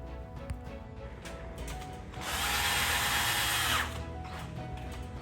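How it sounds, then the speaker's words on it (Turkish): A cordless screwdriver drives a screw while fitting a part of an adjustable camera and phone holder, its close, loud motor whirring steadily for about a second and a half amid quiet handling noise. "parçayı takabilmek için şöyle bir şarjlı vidalama kullanabilirsiniz veya tornavida yardımıyla da takabilirsiniz"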